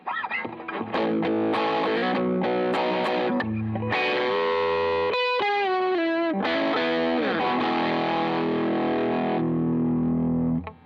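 A distorted electric guitar played through an MXR Duke of Tone overdrive pedal plays a run of held notes and slides, thick and saturated, steady and loud throughout with nothing else over it.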